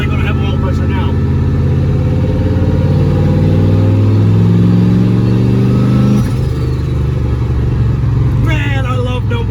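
A car engine without a blow-off valve revving hard and loud up close, its pitch climbing through repeated pulls and dropping off, with a voice talking over the roar.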